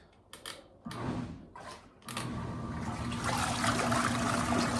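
Costway Giantex portable washing machine briefly running with water and soap, a close churning, sloshing wash rumble that starts after a few knocks and thumps and continues steadily to the end.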